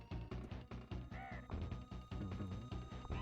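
A bird boss in the Donkey Kong Country video game gives repeated harsh squawks over loud, rhythmic game music that plays continuously.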